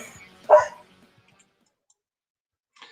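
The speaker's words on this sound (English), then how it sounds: "That dog barking at the end, that was my dog Noel." A dog barks once, a single sharp bark standing out clearly in otherwise quiet surroundings, followed by a faint brief sound near the end.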